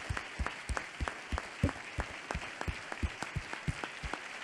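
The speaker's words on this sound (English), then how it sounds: "Let's give them a round of applause." Applause for speakers at a lightning talks event, a small audience clapping with distinct rhythmic claps standing out over a soft wash of crowd clapping, fairly quiet throughout.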